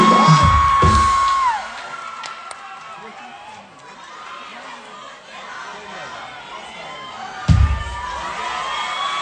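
Crowd at a live concert in Parsabad cheering and whooping, a loud burst at the start that fades into murmuring chatter, then another surge of shouts near the end, with an announcer's voice over it.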